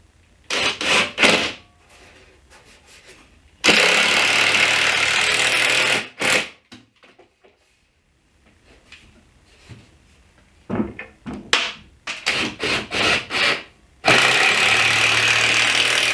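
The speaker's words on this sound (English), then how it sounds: "Then I'm going to drive a screw from the back side." A power drill drives screws into wood from the back of a dresser being built, in several loud, close bursts of motor whine separated by short pauses and quiet gaps, with no talk.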